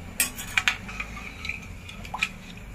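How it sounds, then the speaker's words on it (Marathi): A spoon stirs a spiced horse gram flour mixture in a pot for a traditional Konkan dish, making a few quiet, sharp clinks and scrapes against the pot at irregular intervals. No one speaks. "आता आपण ही अशी ढवळत बसूया."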